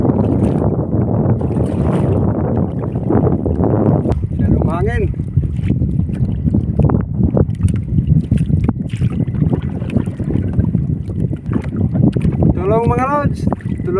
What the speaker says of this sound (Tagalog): Masyadong mahangin.